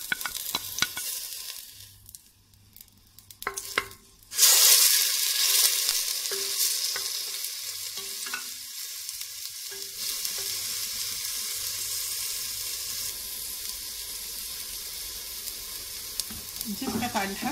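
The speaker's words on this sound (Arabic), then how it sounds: "نزيدو البصلة ديالنا في الشحة،" Chopped onion drops into hot fat in a pan for a Moroccan chorba. After a quiet start it breaks into a loud, steady sizzle with occasional stirring scrapes.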